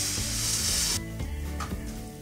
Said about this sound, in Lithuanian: Maišome jautieną.